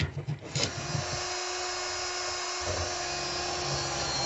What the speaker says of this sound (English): just drilling out a bit of the bark so I can get a centre in